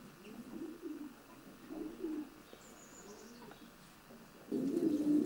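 Racing pigeons in a loft coo in low, repeated, throaty phrases, close by and steady, with a louder burst of cooing at the end and a faint chirp in the background.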